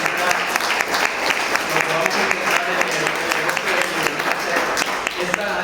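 Audience applause at a book presentation, a steady dense patter of clapping filling the room from start to finish, with some voices mixed in underneath.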